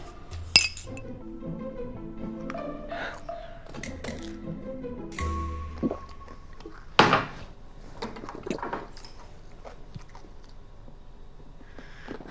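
Glasses clink together in a toast, a few sharp bright clinks scattered among soft thumps and small handling noises, close by in a quiet room.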